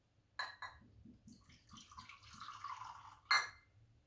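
Gin and tonic mulled wine poured from a bottle into a glass: a clink, then a steady splashing trickle of liquid lasting a couple of seconds, ending with another sharp clink, close and fairly quiet.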